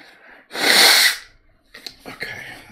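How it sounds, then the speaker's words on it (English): A single loud, close sneeze bursts out with a sharp onset, followed by quiet breathing and light rustling in the background of a livestream painting session. "Okay, I gotta sneeze."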